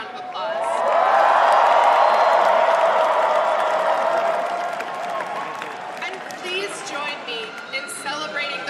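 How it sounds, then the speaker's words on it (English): A large crowd at an election night rally bursts into loud applause and cheering that builds quickly, holds, then fades as whoops and voices carry through. "so please give them all a round of applause"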